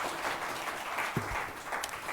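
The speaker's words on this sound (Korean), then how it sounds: "네, 큰 박수 부탁드립니다." An audience at an academic conference of a Korean ESG society gives sustained applause, a dense continuous clatter of clapping that holds steady throughout the room.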